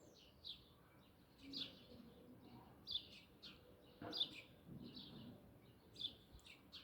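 Scattered bird chirps every second or two over a quiet outdoor street background in Kayseri, Turkey, with no traffic or horns, fairly faint and unhurried, with no voices.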